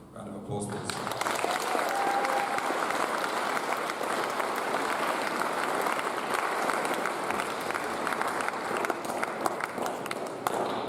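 Sustained audience applause fills a school Year 11 prize giving hall after a list of award recipients is read out, a dense, steady wash of many hands clapping at close range for about ten seconds.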